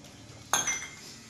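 A single sharp clink of dishes as rice is served onto plates for a home-cooked meal after fish frying, one bright knock with a brief ringing tail in a quiet room.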